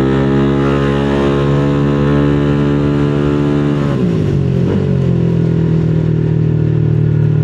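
A motorcycle engine hums steadily, up close and loud, then dips and climbs twice as the throttle is blipped. The bike has a gas overflow problem.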